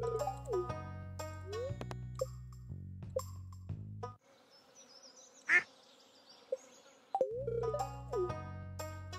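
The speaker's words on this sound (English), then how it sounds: "And two ducks." Ducks in the farming video game Stardew Valley: short cartoonish quacks and game sound effects over looping background music, with a brief quiet stretch in the middle and no speech.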